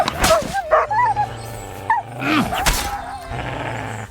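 A dog in Kingdom Come Deliverance 2 yips and barks a few times, then whimpers and groans, close and clear with pauses between the sounds.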